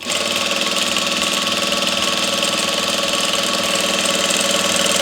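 A sewing machine stitches satin and cotton fabric in a steady, loud, continuous mechanical hum with a fast regular needle rhythm, heard close up and alone throughout.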